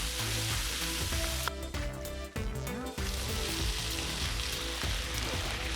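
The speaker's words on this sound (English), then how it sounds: "Stir for a few seconds, and then add the lotus roots." Lotus root slices stir-fried in a wok with fresh ginger, garlic, and dried Thai and green chilies sizzle loudly and steadily, with a brief dip as the roots drop in, then a dense continuous fry.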